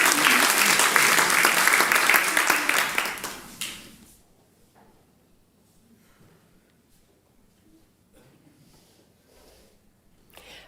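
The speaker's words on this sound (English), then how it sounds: "Let's give her another clap." Warm congregation applause at a Sunday church service, loud and dense for about four seconds before fading out to near quiet with a few scattered claps and small rustles.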